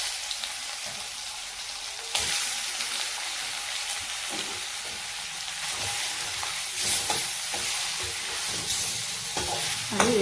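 Pieces of fish fry in a pan of oil with a steady, close crackling sizzle for the whole stretch, broken by scraping stirs and small bursts of spatter, and no voices.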